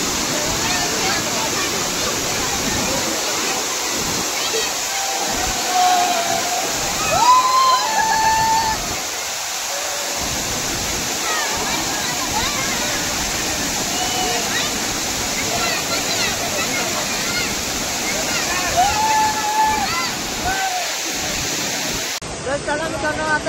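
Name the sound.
waterfall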